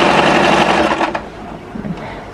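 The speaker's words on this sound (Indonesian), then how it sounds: "Jadi ini disebut dengan jahitan penguat." A sewing machine runs a reinforcing seam on a one-piece collar in plain fabric. A steady, close, fairly loud whirring fills the first second, then it slows and softens to a lighter running hum.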